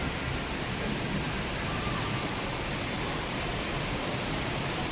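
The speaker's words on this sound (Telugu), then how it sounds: "గాలి వాన." Wind and heavy rain pour down in a thunderstorm, a dense, steady hiss of rainfall with gusting wind, constant and fairly loud throughout with no voices.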